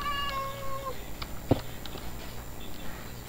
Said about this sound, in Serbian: Ja ću morati da jurim ovu mačku.